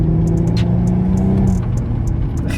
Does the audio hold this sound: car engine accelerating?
yes